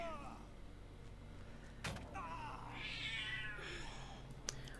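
A cat meows several times in a drawn-out, wavering way, mid-distance, with a sharp knock or thump partway through and faint background noise.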